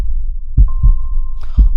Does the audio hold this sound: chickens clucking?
no